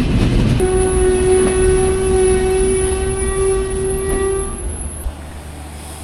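The Shimanto Express sounds a long, loud horn at Mobarakganj station over the rumble of the rolling train, the blast holding for several seconds before fading as the wheels keep clattering.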